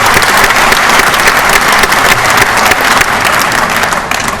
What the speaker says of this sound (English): I'd like you to all give them a round of applause